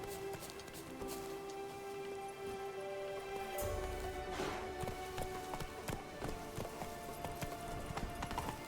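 Hooves clip-clop as the horse Roach gallops in the video game The Witcher 3, a quick steady patter of hoofbeats under faint game ambience and music.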